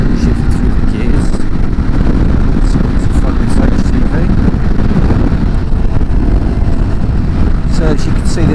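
A Triumph Scrambler 400X motorcycle pulls through its gears at moderate revs, its engine drone buried under constant heavy wind rush across the microphone while riding.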